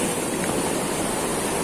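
Sea waves wash and hiss at a seaside fishing spot, a steady broadband rush of surf that stays constant and fairly loud, with no voices over it.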